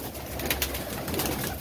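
Pigeons cooing close by in a rooftop loft, soft repeated low coos under a busy outdoor background with faint rustles.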